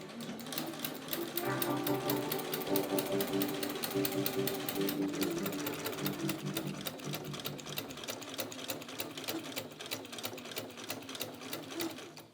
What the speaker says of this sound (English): Next up, I need to sew around the front slit.